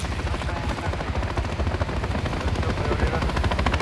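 A helicopter's rotor thumps steadily and loudly throughout a Call of Duty Modern Warfare 3 campaign mission, a dense rhythmic chopping that fills the scene from start to finish.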